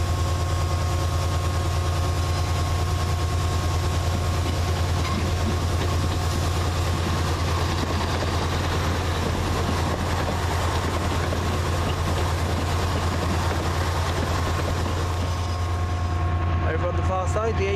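Chiltern Railways diesel multiple unit pulling into Princes Risborough station, a steady loud low engine drone and rumble throughout, with a faint voice briefly audible.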